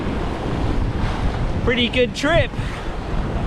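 Steady wind rush and wave wash surround a sailboat at sea during a solo Bay of Biscay crossing, a constant broad roar close to the microphone, with a voice briefly speaking over it.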